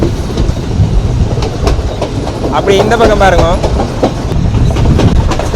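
A passenger train on Sri Lanka's coastal railway rumbles and clatters steadily with rhythmic wheel clicks, heard loud from on board, while a person speaks briefly over the noise.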